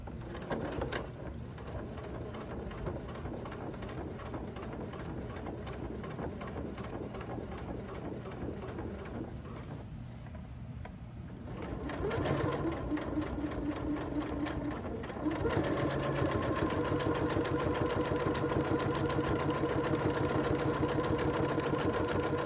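A sewing machine stitches a messenger bag, a fast, steady mechanical chatter that pauses briefly, then runs on louder and quicker as the seam is sewn.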